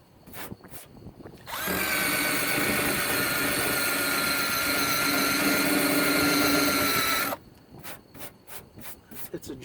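A drill-driven rubber eraser wheel grinds steadily against the painted body of a Series IIA Land Rover, stripping adhesive in one continuous loud run of about five seconds, with quieter handling noises before and after.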